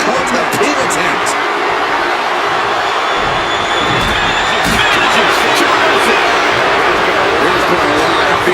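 An arena crowd in the WWE 2K25 wrestling game keeps up a loud, steady roar of jeering and noise throughout, with a commentator talking over it.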